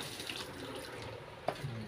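Water runs softly from a tap while it is added to a mixture, a faint, steady trickle with a small splash near the end.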